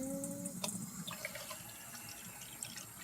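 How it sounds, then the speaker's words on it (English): Warm water is poured through a funnel, a quiet, steady trickling and splashing stream with small bright drips and gurgles throughout, heard alone without speech. "Now I want to pour the water in."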